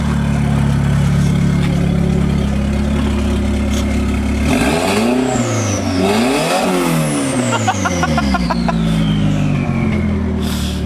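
A Talon all-wheel-drive car engine revs hard and loud with rising and falling pitch sweeps, running steadily under the whole stretch amid road and cabin noise.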